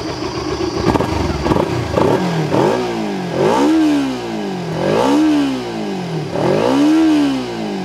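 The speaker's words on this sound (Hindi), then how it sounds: "इसका एग्जॉस्ट नोट मैं यहाँ पर कराना चाहूँगा कि कैसा इसका एग्जॉस्ट नोट है।" A Kawasaki Ninja 300 motorcycle revs repeatedly, its exhaust note climbing and falling in about four loud, close blips after an initial idle clatter.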